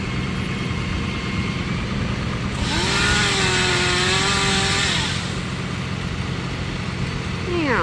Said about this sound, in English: whip out the big chainsaw